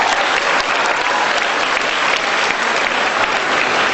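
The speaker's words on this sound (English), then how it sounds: "Let's give them a big round of applause." An audience at a school annual appreciation day applauds award winners, a loud, continuous wall of many hands clapping from start to finish.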